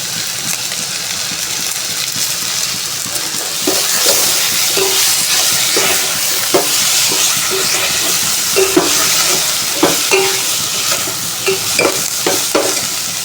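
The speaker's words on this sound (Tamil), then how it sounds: "இது கொஞ்சம் வதங்கட்டும்" Tomato and curry leaves sauté in a pan with a steady, close sizzle, while a utensil scrapes and stirs in irregular clicks and knocks through the whole stretch.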